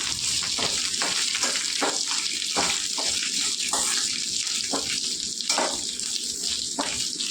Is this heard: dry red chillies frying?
yes